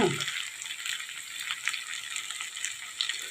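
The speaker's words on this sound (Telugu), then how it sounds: "అసలు నూనెలో ఆ అల్లం వెల్లిపాయ వేస్తుందంటే వేగుతుంటండి" Ginger garlic paste frying in hot oil for a chicken pickle gives a steady, close sizzle with fine crackling pops throughout, and a brief low clunk at the start.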